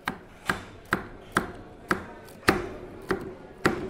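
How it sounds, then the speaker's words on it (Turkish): A knife chops food on a board in sharp, evenly spaced strokes, about nine crisp hits in a steady rhythm, close and alone. "bak bunu da doğrayacağım"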